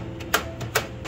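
An office computer's modified power button being pressed in a quiet room, giving three sharp, separate clicks about a third of a second apart, close and moderately loud.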